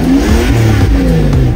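A Toyota Aristo V300 Vertex Edition (JZS161) revs loud and close through a TRD muffler, with a deep, smooth engine note rising and falling in a brief burst.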